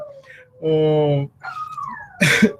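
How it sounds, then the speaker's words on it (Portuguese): A dog howls and whimpers indoors in a few drawn-out, wavering cries with short yips between them, close and fairly loud, with no talk over it. "Agora o cachorro também tá gritando."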